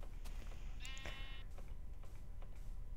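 Minecraft sheep bleats, one clear wavering cry near the start followed by fainter clicks and soft game noise, alone without talk.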